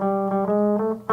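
A guitar plays a harmony line of sustained, clear melodic notes that move gently, close and moderately loud, with a new note struck right at the end.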